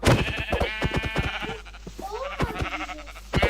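Sheep bleat in a Minecraft game, short wavering calls heard between and under fast excited talk from players.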